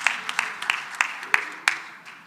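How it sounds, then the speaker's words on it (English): Scattered applause from a conference audience, a handful of distinct claps spaced irregularly rather than a full ovation, fairly close and clear before fading out. "Let's give them another round of applause, please."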